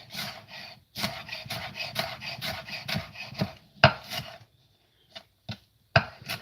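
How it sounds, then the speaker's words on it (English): A kitchen knife scrapes chopped food across a cutting board in rapid rasping strokes, a quick run of close rubs followed by a few slower, separate scrapes and pauses. "If you're going to scrape against like this, you have to be used to it, and you scrape up."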